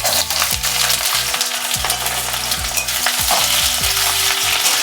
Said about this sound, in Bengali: তেল গরম হয়ে গেছে, এবারে আমি পেঁয়াজটা দিয়ে দিচ্ছি।